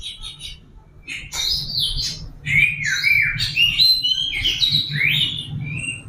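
An oriental magpie-robin (kacer) sings close by in a varied run of sweet whistles, chirps and rising trills, with a low background hum beneath the song.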